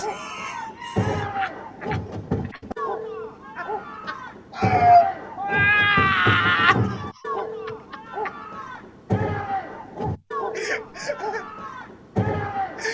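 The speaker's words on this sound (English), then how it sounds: "You hear that yell?" A man yells loudly and at length amid an excited crowd, with several voices shouting and talking over one another and a few thuds around the outburst.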